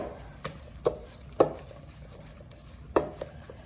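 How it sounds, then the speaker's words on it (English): Hot pâte à choux paste is stirred in a pot, giving soft, irregular thumps and knocks of the spoon against the pot at a slow pace, quiet and close, with no talking. "So I'm gonna stir it a little bit."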